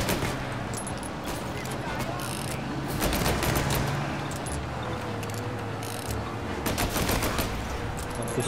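Continuous gunfire with unlimited ammunition in the video game Mafia: Definitive Edition, a dense, sustained crackle of rapid shots with occasional louder bursts, steady and close throughout.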